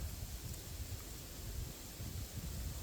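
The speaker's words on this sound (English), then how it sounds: "this shit these are 25 mile an hour gusts" Gusty northerly wind of about 25 mph buffeting the microphone, a continuous low roar with rising and falling surges and no talking.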